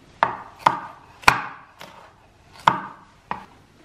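A knife chops a bell pepper on a cutting board, six crisp, sharp knocks spaced irregularly, near and distinct with quiet between strikes.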